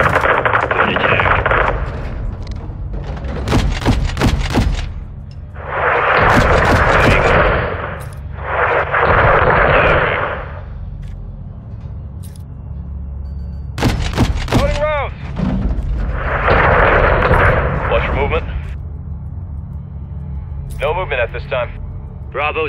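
Call of Duty MW2 gameplay: repeated sharp bursts of automatic gunfire and heavy bombing blasts, with longer rumbling explosions in between, loud and close, under intermittent radio-style voices.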